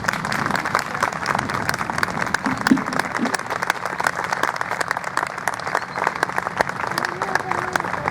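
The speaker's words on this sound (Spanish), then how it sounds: "Un aplauso para Jesús" Sustained audience applause fills a hall at the Vida Fest Campeche 2013 testimony event, dense steady clapping with faint voices mixed in, continuing evenly throughout.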